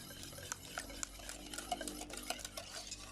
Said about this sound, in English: That gets added in, and I'm still not working over the heat. Stirring that in.